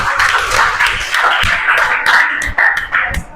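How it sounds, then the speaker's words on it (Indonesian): A group claps hands together in a steady, slightly uneven patter, close and fairly loud, with a few sharper claps standing out near the end. "Iya, oke, tepuk tangan semua."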